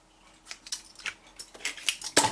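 Scissors snipping a length of seam binding ribbon for a Christmas tree bag: a quick series of crisp, close metallic snips, about seven short clicks in irregular rhythm, the last one loudest.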